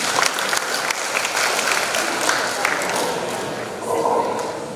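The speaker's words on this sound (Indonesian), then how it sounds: "Tepuk tangan." Applause from an audience at a university competency celebration, loud and dense clapping that carries on steadily with some crowd murmur, easing slightly toward the end.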